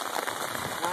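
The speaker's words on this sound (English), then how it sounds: "Here we are on our Sunday morning walk" Rain pattering steadily on surfaces outdoors during a Sunday morning walk in October, a dense close hiss of drops with faint voices mixed in.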